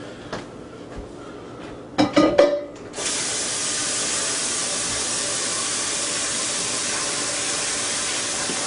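Water runs from a tap into a container of vegetable stock, starting after a few clunks and clatters and settling into a steady, close hiss of flow that continues alone.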